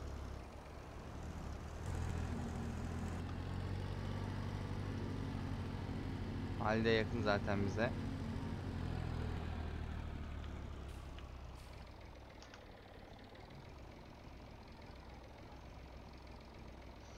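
A tractor engine in the farming video game Farming Simulator 22 drones steadily at low speed, a continuous low rumble running under a voice throughout.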